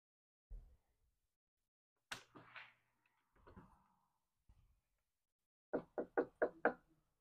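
Knuckles rap on a door: a few scattered taps and bumps first, then a quick, clear series of five knocks, close and fairly quiet in an otherwise silent room.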